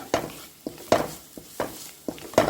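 Onions sautéed in a pan until brown, heard as a series of spatula scrapes and clinks against the pan, roughly evenly spaced, over a faint sizzle, close and without talking.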